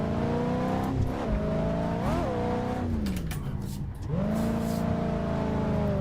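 A 1988 Monte Carlo with a 180-horsepower engine drifts in Assetto Corsa, its simulated engine revving up and down in rising and falling pitch sweeps with a brief dip near the end, a voice faintly under it.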